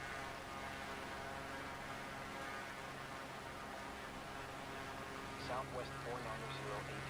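A Beechcraft propeller plane in a flight simulator drones with a steady, low engine and prop hum over a constant noise bed, while someone speaks faintly toward the end.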